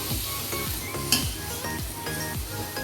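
A ground sesame paste mixture sizzles in a frying pan, a steady crackling hiss with soft rhythmic scraping strokes as it is stirred, plus one brief sharp clink.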